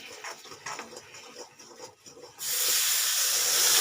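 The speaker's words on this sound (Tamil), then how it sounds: "அவ்வளோதாங்க இப்போ நம்ம தண்ணி ஊற்றிடலாம்" Water poured into hot ghee and roasting semolina for suji halwa bursts into a loud, steady hiss and sizzle partway through, after softer pan sounds, continuing strongly to the end.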